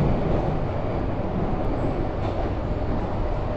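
A Hong Kong subway train running in a tunnel under the South China Sea makes a constant, dense roar with a heavy low rumble, loud and unbroken throughout, with no voices.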